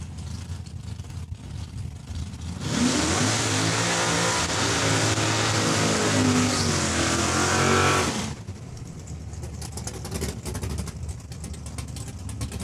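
A drag racing car at Saskatchewan International Raceway in Saskatoon launches with a loud, roaring engine that builds and holds for about six seconds before cutting off, leaving crowd and track ambience.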